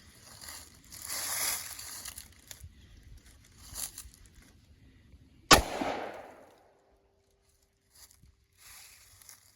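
A single sharp, loud pistol shot from a Romanian Tokarev TTC firing a 7.62x25mm round nose full metal jacket bullet into sheetrock cracks out midway, its echo fading into near silence after some quieter handling noise.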